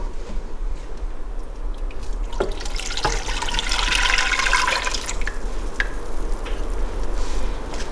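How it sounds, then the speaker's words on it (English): Hickory bark tea is poured into a pot, a steady liquid gush and splash heard close up over a low background hum, swelling midway and continuing for several seconds without talk. "let me go ahead and get this in our pot"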